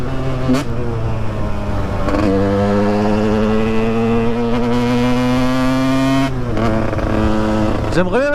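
A KTM 125 EXC two-stroke dirt bike engine hums steadily at idle and low revs, then rises in pitch at the end as it is revved, loud and close throughout.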